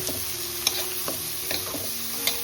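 Garam masala, coriander powder and salt sautéed in a pan, a steady close sizzle broken by a few sharp spoon clinks against the metal.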